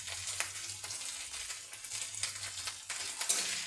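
Spiced masala with turmeric and salt sizzles and fries in a pan while being stirred, a steady close crackling hiss with soft scraping strokes throughout, no voices.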